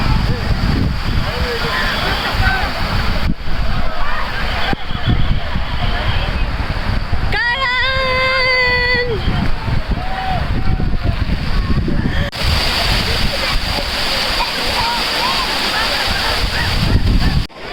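Strong gusts roar at the Naneghat reverse waterfall, where the wind blows the spray back upward, making a loud, constant rush of wind and water against the microphone. A voice speaks briefly partway through.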